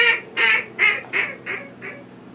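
A small duck quacks five or six times in a steady rhythm, each call ending in a whiny, squealy tail, the calls fading somewhat toward the end, close and clear with no talk.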